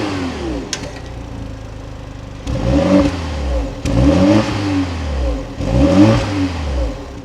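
A 2026 BMW 330i engine cranks and fires up, then revs loudly several times in a row, each rise in pitch followed by a fall back toward idle, close and clear with no talking.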